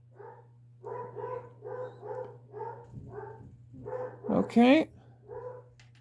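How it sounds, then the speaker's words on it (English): A dog barks repeatedly upstairs in a steady string of barks, distant but clear, rising into a louder yelping burst near the end, over a constant low hum while a person says a word. "as the dog goes crazy upstairs"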